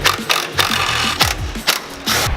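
A 12 millimeter ratchet loosens the sway bar bracket bolts under a 350Z on a lift: quick runs of close, loud clicking in bursts, separated by brief pauses.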